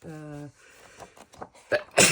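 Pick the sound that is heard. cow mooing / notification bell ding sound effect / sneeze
sneeze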